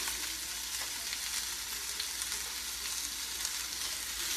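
Mushrooms sizzling in a pan, a steady even frying hiss with faint crackles, continuous and unbroken with no talking.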